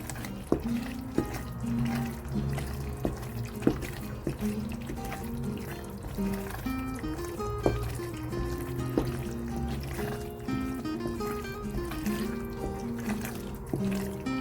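Herrings stirred in a pot of oil while making Ghanaian shito produce a continuous bubbling sizzle with scattered clinks and scrapes of a spoon against the pot, steady and close.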